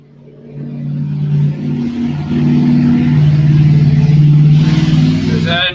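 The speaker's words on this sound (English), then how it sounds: "There's that annoying truck again." A diesel truck drives past outdoors, its steady low engine rumble swelling and holding loud and near for several seconds before easing slightly at the end, with no talk over it.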